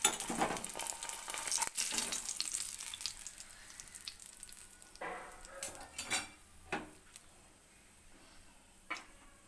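Boiled eggs fry in oil in a pan for egg biryani, with a soft continuous sizzle broken by sharp clinks and scrapes of a utensil against the pan, the loudest bursts early on and fainter knocks later.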